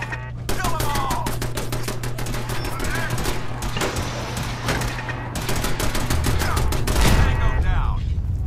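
Rapid automatic turret gunfire rattles in dense bursts through a Fallout 4 firefight, loud and continuous with a few louder booms near the end; voices shout briefly amid the shooting.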